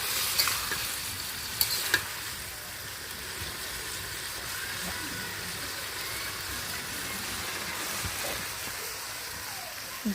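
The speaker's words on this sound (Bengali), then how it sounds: "এখন আমাদের ফুলকপি আলু এগুলো কষিয়ে নেওয়া হয়ে গেছে" Cauliflower and potatoes fry in a pan with a steady, close sizzle, and a few sharp clinks of a stirring utensil come early on before the hissing carries on alone.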